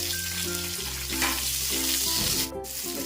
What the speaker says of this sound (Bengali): ভালো করে 10 মিনিট ভালো করে হালকা আঁচে ভেজে নেবো